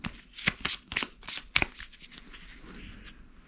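A deck of game cards is shuffled up close, a series of quick riffling bursts in uneven rhythm that taper into softer handling, with no voices.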